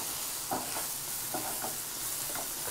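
Mushrooms tipped into a hot pan for a mushroom curry, a steady sizzle of frying underneath with a few soft stirring scrapes and clatters at irregular intervals, close and fairly quiet, no voices.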